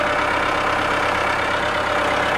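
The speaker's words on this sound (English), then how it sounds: "This tractor's a little big for this wet yard" A large tractor idles in a wet front yard, its engine running as a loud, steady mid-pitched drone with a faint knocking pulse, alone without talk.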